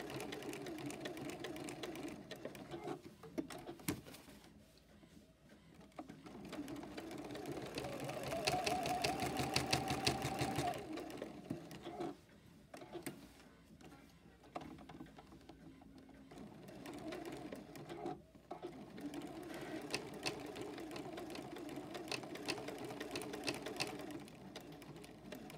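A sewing machine stitches a quilted folded star hotpad in busy fabric, a long, quiet, uneven run of mechanical whirring and clicking that swells and eases, with slower stitching and brief pauses between.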